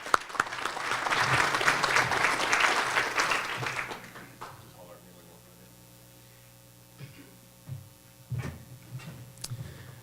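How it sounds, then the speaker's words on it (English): A room full of people at a chamber of commerce nonprofit showcase breaks into applause that lasts about four seconds and then dies away. Only a few scattered claps and a steady electrical hum remain after it. "Let's give him a round of applause."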